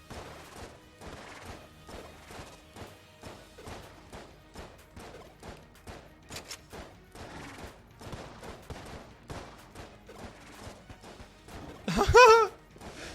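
Rapid quad laser shots and gunfire in the video game Enter the Gungeon form a fast, steady patter of small blasts at moderate loudness, ending in a sharp, louder crash-like burst.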